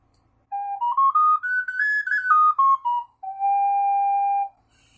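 Alternative-tuning ocarina playing a minor pentatonic scale: pure, breathy whistle-like notes stepping up to a peak and back down, then one long held low note, clear and solo.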